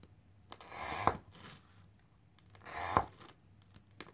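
Fused glass pieces are cut for kiln work, with two crisp, sharp snaps spaced about two seconds apart over quiet handling rustle.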